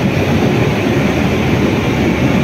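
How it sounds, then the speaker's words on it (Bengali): The Purba Express rumbles into platform 15 at Howrah station, a loud, close, continuous low roar of the moving train with no speech. "পাশ দিয়ে এখন পূর্বা ঢুকছে 15 নম্বর প্ল্যাটফর্মে।"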